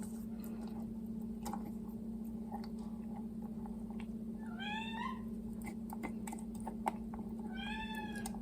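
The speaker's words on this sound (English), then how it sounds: "Those pitiful meows in the background are from my kitten Mish." A kitten gives two thin, rising meows, each a short plaintive cry, heard faintly in the background over a steady low hum and scattered soft ticks.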